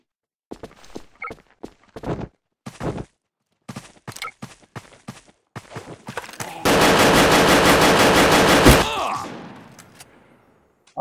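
Video game clan battle gunfire: scattered short bursts of shots stutter at first, then build into a loud, sustained automatic volley of about two seconds that trails away into fading echoes.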